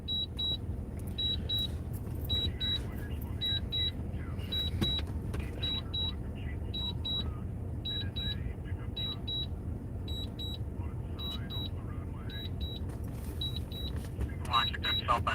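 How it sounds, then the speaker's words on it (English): Short repeated beeps from a drone's remote controller as the drone returns home, sounding in steady clusters over a constant vehicle cabin rumble during a snowy storm chase, with a voice talking now and then. "I can't do anything about the beeping"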